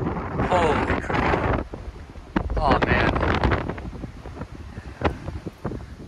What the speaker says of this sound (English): Oh, it's windy up here too.